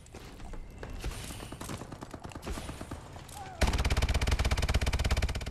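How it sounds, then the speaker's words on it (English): Rapid machine gun fire in a first-person shooter video game: scattered shots and mixed game noise at first, then a loud, dense, steady burst of automatic fire for the last couple of seconds. "Bad aim with a machine gun."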